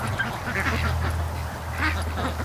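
Ducks quack repeatedly by a lake and creek, where Muscovy ducks are kept, with a steady outdoor hum underneath; the calls are moderately distant and overlapping.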